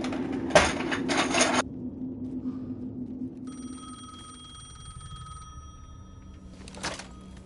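A payphone rings in the video game Alan Wake 2: a loud bell rings in two close bursts, then a sustained electronic tone lingers before one more short ring at the end.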